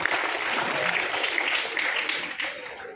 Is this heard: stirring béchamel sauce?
no